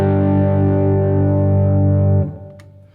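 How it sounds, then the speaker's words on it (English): A warm, loud electric guitar chord on the neck pickup sustains evenly, then is cut off and decays quickly into faint residue. "Here's the neck pickup."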